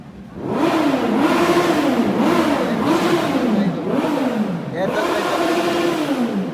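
A fully modified Maruti Brezza revs hard at a car gathering, with about five rising-and-falling engine surges in quick succession, loud and close.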